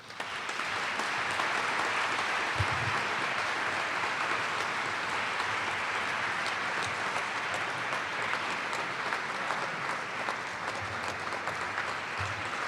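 A symposium audience gives sustained applause, a dense even wash of many hands clapping for the whole stretch, with faint low thumps scattered through.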